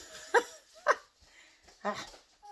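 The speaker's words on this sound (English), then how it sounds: "pardon my dog barking" A dog barks three times in quick succession at moderate distance, with a faint yip or whimper near the end.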